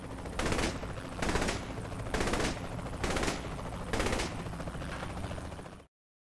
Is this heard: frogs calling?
no